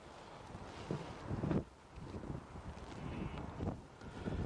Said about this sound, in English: I'm up on the roof at the moment, getting blown away. I think it's really, really windy.